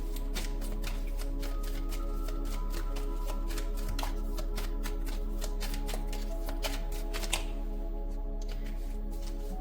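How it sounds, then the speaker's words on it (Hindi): Tarot cards being handled and drawn from a deck, a run of close, quick papery flicks and snaps over a steady low hum, with a few sharper clicks near the end and no speech. "मैं ये 4 कार्ड्स इसलिए निकाल रही हूँ फ्रॉम द टैरो"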